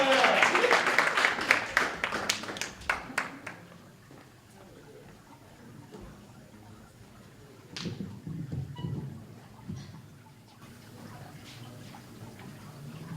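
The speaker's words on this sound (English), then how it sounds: "Can we give Carmelina a round of applause, please?" Audience applause at an open mic night, a burst of clapping in the first few seconds that fades quickly, followed by quieter room noise and a voice beginning to speak.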